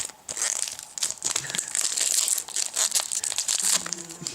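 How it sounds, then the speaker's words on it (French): A Pokémon XY Evolutions booster pack wrapper crinkles and crackles close up in sharp, irregular bursts as it is handled and opened, with no talking. "Ouais, mais non, c'est pas comme ça que tu vas ouvrir le booster"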